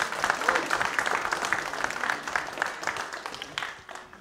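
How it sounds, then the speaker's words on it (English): A church congregation at Westgate Church applauds its visitors with a steady, fairly close round of clapping that slowly fades toward the end. "Can we give them a clap this morning?"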